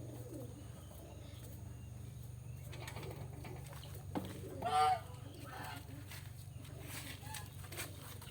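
Goslings and geese in their pen, soft peeping and calls under a steady low hum, with one louder call burst midway, the birds heard at close to moderate distance.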